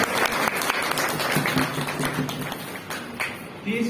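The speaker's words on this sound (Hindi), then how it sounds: "एक बार जोरदार तालियां।" An audience at a teacher's retirement function breaks into hearty applause, a dense continuous clatter of many hands with a faint voice murmuring underneath.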